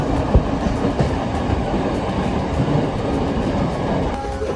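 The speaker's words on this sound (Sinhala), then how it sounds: "අපි පැය 5ක් විතර ට්‍රේන් එකේ මාතරට ආවා" Steady rumble and rattle of a moving train to Matara, Sri Lanka, with continuous wheel and carriage noise heard from inside.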